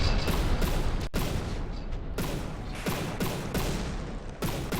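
Rapid volleys of 500mm naval cannon fire hit a heavily armored ship in the From The Depths video game, a string of loud, booming bursts in quick succession with short gaps between them.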